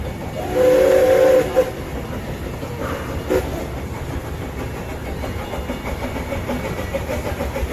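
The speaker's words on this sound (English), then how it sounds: "Clickety clack. Steel wheels" A train whistle sounds briefly, then rolling rail noise rumbles steadily as the cars pass close by, a continuous rhythmic clatter of steel wheels on track.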